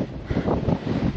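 Strong wind buffets the microphone outdoors, a loud, continuous low rumble swelling in gusts, with a faint hint of surf or open water in the background.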